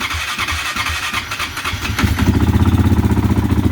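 A 2007 Honda TRX450R ATV engine with a suspected starter clutch or reducer gear fault, cranking with uneven rough bursts before catching and settling into a loud, close, rapid steady idle.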